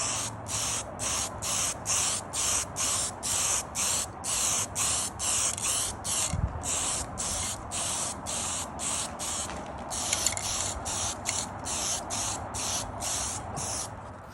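Repeated short bursts of spray paint hissing on a Hilux, about two per second in a steady rhythm, close and loud, with a brief pause partway through.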